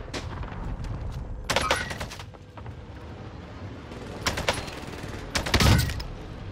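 AK47 gunfire in a Call of Duty Rebirth Island match: three sharp bursts of shots, near and loud, spaced apart over a steady background of game ambience.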